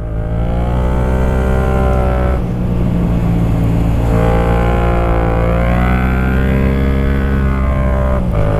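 A car driven fast up the Semnoz mountain road holds a loud, close, continuous engine drone that rises and falls as it revs through the bends, with no pauses throughout.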